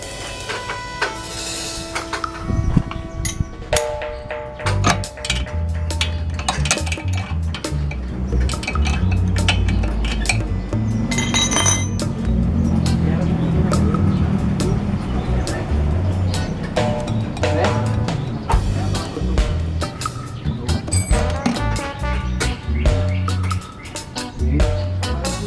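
A wrench works loose the exhaust of a Vespa PX scooter, with scattered sharp metallic clicks, ratcheting ticks and clinks over a low rumbling background, and occasional voices nearby.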